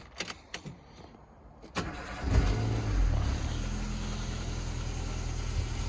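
A used car cranks and fires up after a few clicks and knocks, then settles into a low, steady idle with a faint rattle, heard close and alone.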